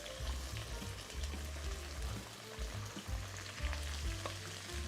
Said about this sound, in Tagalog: Putting in the mushrooms.